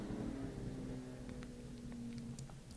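A loud motorcycle passes outside with a low, rumbling engine drone, heard from indoors as a muffled, steady growl that gradually fades.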